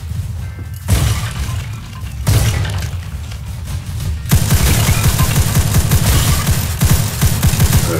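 Gunfire in a Roblox WWI battle simulator game, with volleys of rifle and machine-gun shots that grow into a dense, loud, continuous fusillade of rapid cracks in the second half.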